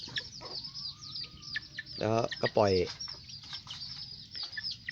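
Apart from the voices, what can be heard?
chickens clucking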